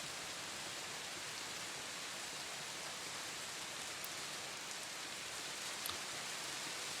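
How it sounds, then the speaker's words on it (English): Steady rain ambience plays during a tabletop role-playing game session, a soft, even hiss of falling rain that holds at a faint, unchanging level throughout with no voices. "you just hear the sound of rain"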